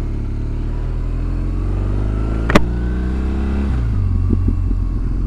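Engine of a 2007 BMW R1200GS motorcycle while being ridden, a steady loud drone with a brief sharp spike midway and a shift in pitch near the end, no talking.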